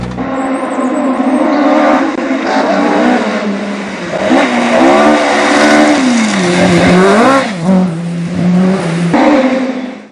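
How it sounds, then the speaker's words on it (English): Rally cars race through a Rally North Wales forest stage in the HRCR Stage Masters series, engines revving loudly and close with rising and falling pitch as they shift gears and pass, joined by bursts of tire noise. "the unmistakable sound of engines reverberated around the valleys"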